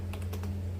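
A few quick keystrokes on a Logitech MK240 Nano wireless keyboard, soft and close, tapping in a short burst over a low steady hum.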